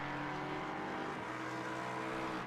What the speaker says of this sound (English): just about to get lapped by the BMW